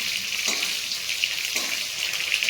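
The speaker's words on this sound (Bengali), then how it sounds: "এই যে মাছ ভাজা লাগছে" Fish fries in hot oil in a home kitchen, giving a steady, close crackling sizzle with two brief louder bursts of spatter, and no voices.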